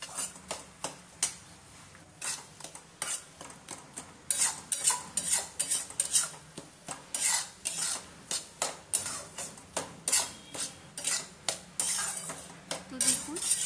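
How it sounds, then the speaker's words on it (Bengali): Gram flour and semolina are fried in a pan while a metal spatula scrapes and clinks against it in a steady rhythm of short, close strokes, sometimes faster, sometimes slower. "তো এই বেসন আর সুজি ভেজে নিতে হবে যতক্ষণ না এর কালারটা বিস্কুট কালারের আসে, ততক্ষণ এটা ভেজে নিতে হবে।"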